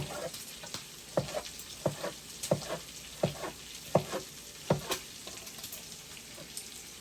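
Bacon and cabbage frying in a pan, rendering fat until crisp: a constant close sizzle broken by sharp, regular pops and spatters about every half second, with no voices.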